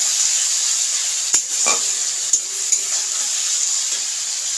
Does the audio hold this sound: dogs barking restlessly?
no